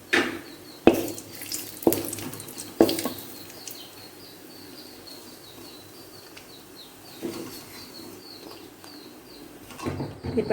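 Cashew nuts roasting in a pan while being stirred, several sharp metallic scrapes and clinks of a spoon against the pan at intervals over a faint steady sizzle, close and fairly quiet.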